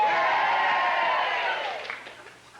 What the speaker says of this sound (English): you are invited to encourage him by cheering him along